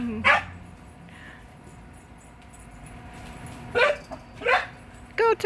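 A maltipoo and a neighbor's dog play outdoors, giving several short, sharp barks spread out over a few seconds, with a quiet background between the outbursts.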